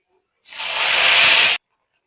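Cooked tomato sour is poured into hot oil with fried chopped onion and minced garlic, bursting into a loud, sharp hiss that builds quickly, holds for about a second and then cuts off abruptly.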